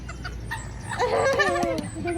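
A chicken clucks and makes a few warbling calls close by, with soft background noise throughout.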